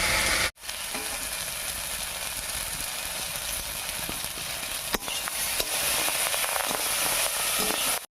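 Taro stolons fry in a pan for a dish of thin snakehead fish curry, a steady dense sizzle running throughout with a brief dropout near the start and faint occasional stirring clicks.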